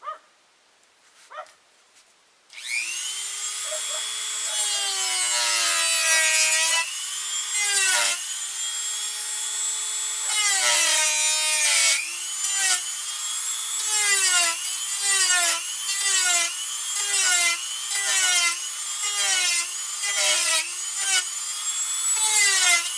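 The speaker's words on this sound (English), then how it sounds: "We use this shaping tool to taper this back." Wood tapered with a shaping tool while carving a ventriloquist dummy figure: repeated squeaky, scraping back-and-forth strokes in a steady rhythm, close and fairly loud, with no talking.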